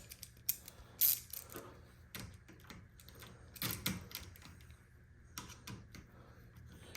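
Ratchet socket wrench with a 5/16 socket clicking as bolts are snugged on a canister mod installation, quiet close bursts of rapid ratcheting and mechanical clatter with pauses between, no talk.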